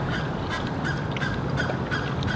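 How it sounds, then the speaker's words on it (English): Geese or similar fowl honk repeatedly over steady background noise in a room set up for interview lighting, the calls fairly loud and continuous, with no talking. "These birds,"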